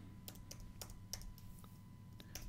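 Computer keyboard typing during a Kali Linux setup on VMware, a handful of quiet, sparse key clicks spaced irregularly over a low steady background hum, no talk.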